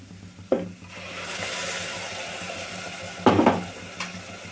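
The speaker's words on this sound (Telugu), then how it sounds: "ఇది కూడా ఆయిల్ సపరేట్ అయ్యేదాకైతే ఇట్లా కలుపుతా వేయించుకోవాలి." Tomato paste and spices frying in oil for a green peas curry, with a steady sizzle under a few sharp spoon scrapes and clinks against the pan, close and moderately loud, no talking.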